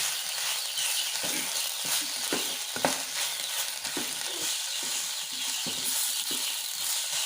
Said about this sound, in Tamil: கீரையை நல்லா வதக்கி விடுங்க